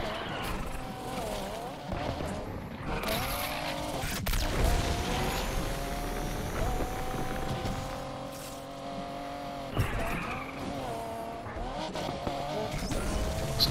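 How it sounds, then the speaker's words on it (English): A Ford GT in Need for Speed Unbound fishtails through corners, its engine revving and tires squealing in long wavering skids, loud and continuous with no talk. "This car kind of fishtails a little bit."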